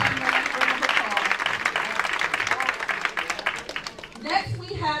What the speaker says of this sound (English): Let's give Cameron a round of applause.